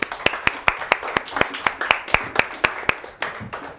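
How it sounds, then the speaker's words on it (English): A Year 6 maths class applauds a pupil, giving a short round of sparse, distinct claps in a steady rhythm from a small group of children in a classroom. "Let's give him a round of applause"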